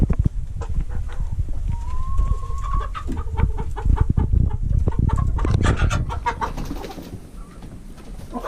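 A flock of chickens clucking and murmuring close by, steady and busy throughout, with scattered sharper calls over a dense background.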